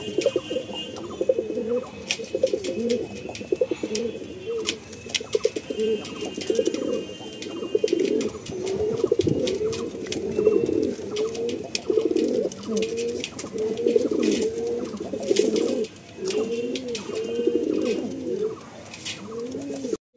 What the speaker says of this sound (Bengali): এটা ফুলসিরা পায়রা